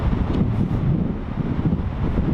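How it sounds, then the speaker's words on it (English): Strong, cold wind rumbles and buffets the microphone outdoors while lure fishing for pike, in a continuous, low roar, with no voices present. "it's really cold and windy"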